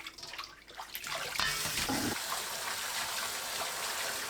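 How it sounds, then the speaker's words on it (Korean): Blanched spinach rinsed in cold water at a kitchen sink: a quieter start with small splashes, then a full, steady gush of running tap water that carries on loudly to the end. "바로 찬물에 헹궈주세요."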